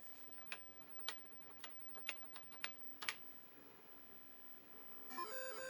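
Keys on an old 1980s computer keyboard are pressed one at a time in about a dozen sharp, irregular clicks, quiet and close in a still room.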